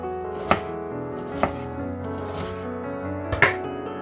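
An onion sliced into thin slivers, with three sharp knife chops striking a cutting board about a second apart, close and clear over a low steady background, no talking.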